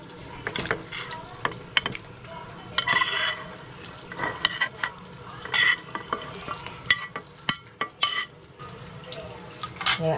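Lechon pork dropped into a pot of salted water at a rolling boil for sinigang, with stirring, bubbling and splashing clatter close by, uneven bursts of liquid noise throughout.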